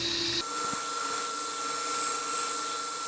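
A Wusthof boning knife edge is drawn against a sharpening machine, giving a steady high hiss and whine that runs continuously after a brief lower start, fairly faint and without talk.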